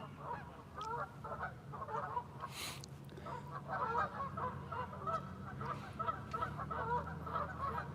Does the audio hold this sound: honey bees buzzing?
no